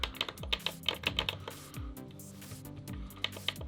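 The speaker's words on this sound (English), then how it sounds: "Some buttons are more clicky, while the sequence buttons up here are softer" Buttons on an Akai Fire controller clicked in a quick, uneven run of crisp taps, some sharper and more clicky, others softer, close up with no talking.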